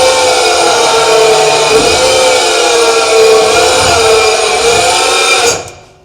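An electric power steering motor turns a monster truck's steering wheel, giving a steady whining hum with slight pitch shifts that runs continuously close up and cuts off abruptly near the end.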